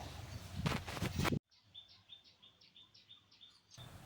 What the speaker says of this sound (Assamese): বাহিৰত চৰাইৰ মাত ওলাই থকা বাবে সি চৰাই চাবলৈ গৈ আছে